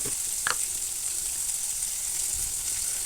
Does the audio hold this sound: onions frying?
yes